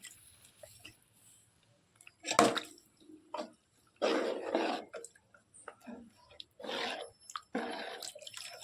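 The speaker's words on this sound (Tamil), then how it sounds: "இதில் நல்லா இப்போ வந்து தண்ணி ஆட் பண்ணிக்கலாம்" Water splashes into a pan of ragi flour in several separate pours, each a short gushing burst separated by quiet pauses.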